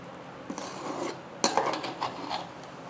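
A pot of prawn biryani cooking over a medium flame has its metal lid lifted, giving a few close clanks and scrapes of metal on metal with a sharp clatter near the middle, and no talking.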